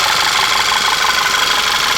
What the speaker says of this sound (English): my engine's a little bit louder because I think I need a little bit of oil